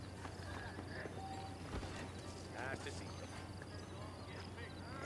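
Horse hooves clip-clopping in the Red Dead Redemption video game, a faint, steady trot set in quiet ambience with a brief whinny, heard under someone talking.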